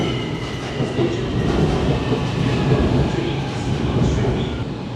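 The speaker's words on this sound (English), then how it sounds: "Oh, here comes the train." A train arriving at a station in Pudu, a continuous loud rumble of wheels and carriages rolling in steadily, with faint metallic squeals in the background.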